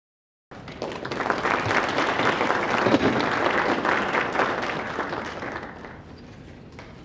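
A crowd at a talk on Islamic geometric patterns breaks into applause to welcome a speaker. The clapping starts abruptly after a brief silence, stays full and dense, then slowly tapers off.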